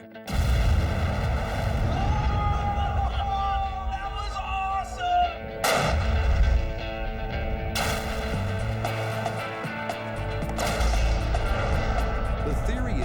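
Explosives detonate inside a bunker during a test of whether a blast can turn carbon into diamond, with several sharp broadband booms standing out over steady ongoing background noise and music.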